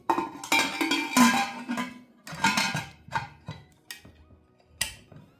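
Metal clinks and clatters as a vent weight whistle is set onto a Hawkins pressure cooker, several separate knocks and rattles close by with quiet gaps between them.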